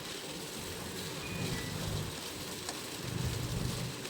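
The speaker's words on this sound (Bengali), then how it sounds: "এবার ভালোভাবে এপিট ওপিট করে আমি ভেজে নিচ্ছি চালটাকে পটলের সাথে" Rice being fried with pointed gourd in a pan, giving a steady, dense crackling sizzle throughout that swells louder in two stretches, with no talking.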